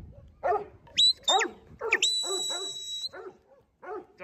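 A dog barks repeatedly in sharp, nearby bursts, broken up by high whining yips and short pauses between barks.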